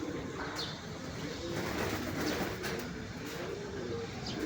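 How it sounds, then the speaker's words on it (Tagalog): Soft pigeon-like cooing repeats several times over a constant background rumble, with faint chirps scattered throughout. "Oh, oh meron pa ng ibon pala sa loob."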